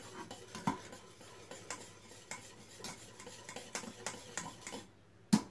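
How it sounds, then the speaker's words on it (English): A spoon stirs homemade parsley sauce in a pan with quiet, rhythmic scraping and light metallic taps, close but faint, ending in a couple of louder knocks. "Just give it a little stir."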